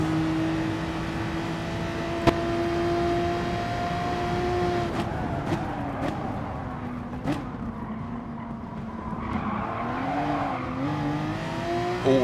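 Race cars, with an Audi TT among them, run a lap in a racing game, one steady close engine drone shifting pitch through corners, plus a few sharp clicks and a brief tire-squeal surge near the end.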